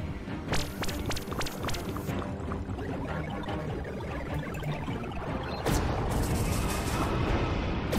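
Ship weapons in the space strategy game Halcyon 6 firing at an enemy vessel, a rapid burst of sharp blasts up front, then a rumbling lull before a second heavy volley of booms.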